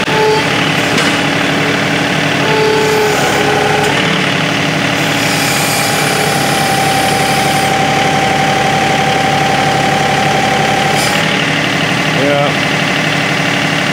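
A John Deere 2038R compact tractor with a 220R front loader runs steadily at about 1400 RPM under strain from the loader, a continuous mid-pitched engine drone, with a brief hydraulic whine partway through and occasional talk over it.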